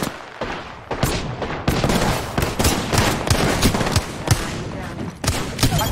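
Gunfire in the Apex Legends video game, with rapid bursts and repeated loud shots throughout, mixed with other combat noise while players talk over it.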